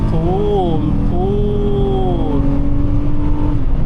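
A 278 hp V6 Honda Accord EX-L in sport mode revs and pulls hard, a steady engine roar rising in pitch from inside the cabin while someone talks over it.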